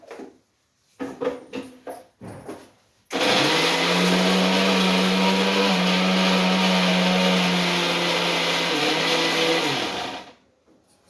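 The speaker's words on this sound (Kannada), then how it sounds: "ಬೆಳ್ಳುಳ್ಳಿ ಹಾಕೋತೀನಿ, ಮಿಕ್ಸರ್ಗೆ ರುಬ್ಕೊತೀನಿ." A mixer grinder whirs loudly for about seven seconds, grinding garlic and coriander into a paste, after a few short rattling bursts as the ingredients are loaded; the motor runs steadily, then winds down to quiet.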